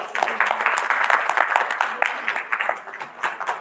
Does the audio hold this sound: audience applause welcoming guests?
yes